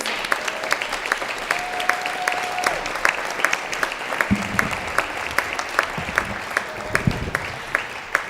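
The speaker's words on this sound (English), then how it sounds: "One more big round of applause for all of our students." Sustained applause from an evening audience for a group of students, steady dense clapping throughout, with brief voices and a few whistles rising over it.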